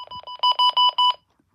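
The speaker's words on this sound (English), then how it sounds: "that's what the alarm clock sounds like" A weather radio alarm clock sounds its alarm in loud, rapid electronic beeps, grouped into about five quick bursts, then falls silent.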